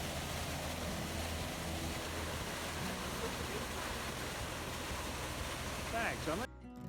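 Water pours steadily into a canal beside a narrowboat on the South Yorkshire Navigation, a constant rushing hiss that holds level throughout before cutting off abruptly near the end.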